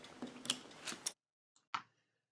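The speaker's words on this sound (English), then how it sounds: "I'm going to use the scissors" Scissors cut through soft plastic: a few quick, crisp snips over light handling rustle, then a pause and one last sharp close snip.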